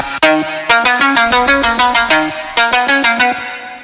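A bright synth plays a quick plucked melody alone, a run of short, evenly spaced notes with a brief pause midway before continuing.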